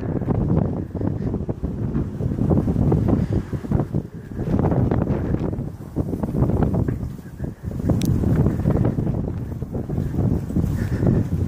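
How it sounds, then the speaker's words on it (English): Heavy wind buffeting the microphone, a loud continuous low rumble with gusty surges throughout, no voices. "Again, I apologize for the wind. It's very windy out here today."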